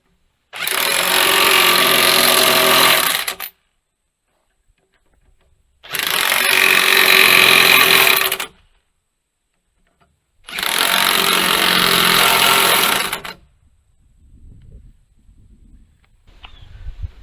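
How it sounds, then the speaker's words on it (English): Impact wrench working on the moldboard of a motor grader, firing in three loud, sustained bursts of hammering rattle, each around three seconds long, with quiet gaps between and faint handling sounds afterward. "The rattle wrench did actually a pretty good job"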